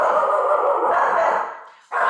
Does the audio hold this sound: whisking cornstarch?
no